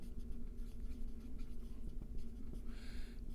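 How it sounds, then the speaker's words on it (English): Handwriting close up, a pen scratching steadily across a surface in short strokes over a low background hum. "I'm just going to write here"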